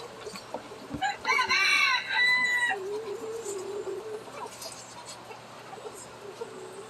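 Silkie hens clucking and a silkie rooster crowing once loudly nearby, followed by softer clucks and low murmurs from the flock.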